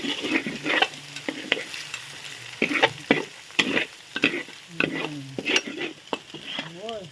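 Fried rice with egg, pork and garlic is stir-fried in a pan, with a low sizzle beneath repeated sharp clacks and scrapes of a utensil against the metal in an irregular rhythm.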